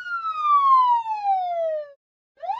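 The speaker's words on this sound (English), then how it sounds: "Ambulance." A loud, clean electronic siren wail sweeps downward in one long tone, pauses briefly, then starts rising again.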